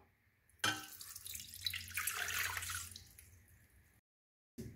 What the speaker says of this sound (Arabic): نديرو في البول نص لتر تاع الماء